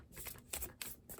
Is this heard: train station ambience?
no